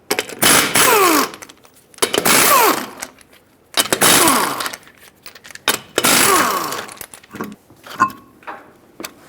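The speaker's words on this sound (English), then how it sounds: "Use a 21mm socket, remove the 4 lug nuts to remove the wheel so we can get better access." A power tool with a 21mm socket removes four lug nuts from the wheel of a 2012-2017 Hyundai Accent, giving four loud, close bursts of whirring rattle with short pauses between them.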